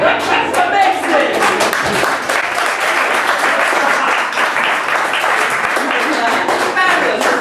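Audience applause at a live improv comedy show themed on Magic: The Gathering, dense sustained clapping filling the room with a few cheers and voices mixed in, steady throughout.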